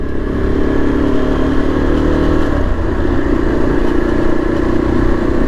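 A 2024 Yezdi Adventure motorcycle engine pulls at low speed in gear, a loud, close, steady rumbling drone with a slight rise in pitch midway, running alone without talk.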